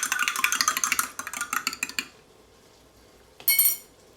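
A spoon stirs tomato sauce into a pot of beef stew, making quick rhythmic clinks and scrapes against the pot for about two seconds, followed by a brief louder clatter near the end.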